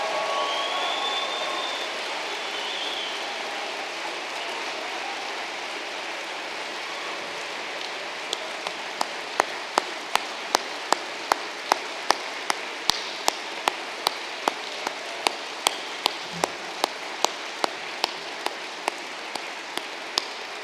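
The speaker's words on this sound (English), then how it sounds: "giving them a massive round of applause for their huge achievement" A large audience applauds at a university degree ceremony in Poole, a steady rain-like wash of clapping that carries on for about twenty seconds, with sharp, regular ticks joining in over the second half.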